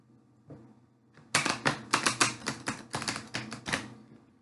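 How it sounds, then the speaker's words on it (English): A deck of cards shuffled by hand, heard up close as a quick run of crisp, crackling riffles after a brief quiet start, with no talking. "I'll just keep shuffling"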